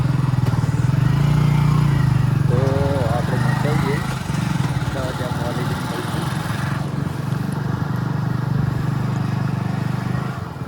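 A motorcycle engine rumbles steadily up close for the whole stretch, with brief voices rising faintly over the constant low drone.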